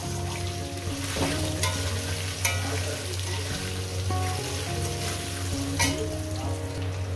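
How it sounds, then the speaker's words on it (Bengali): Potatoes frying in oil in a pan for a Bengali fish curry, a steady close sizzle with occasional stirring scrapes and a low constant hum beneath. "এবার আলুগুলোকে 4-5 মিনিট ধরে আমি ভেজে নিই"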